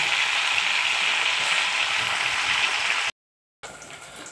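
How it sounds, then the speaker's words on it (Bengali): Cauliflower florets coated with salt and turmeric fry in hot oil, giving a steady close sizzling hiss that cuts out briefly near the end and then resumes. "এটা নুন হলুদ দিয়ে ভেজে নিই বন্ধুরা।"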